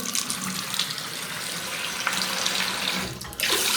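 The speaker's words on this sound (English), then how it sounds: "Water running fine" Water gushes steadily from a tap into a basin, a continuous close hiss with a brief change in the flow near the end.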